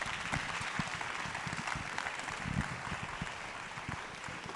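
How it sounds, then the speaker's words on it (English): Audience applause for a panel at a conference session on utilities innovation, steady and dense clapping from a sizable crowd throughout, with no speech over it. "let's thank our panel and give them a round of applause"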